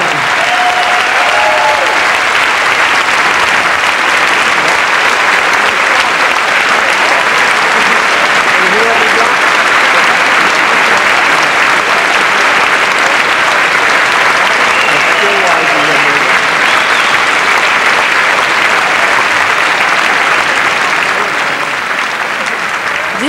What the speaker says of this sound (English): Let's have a big hand for him.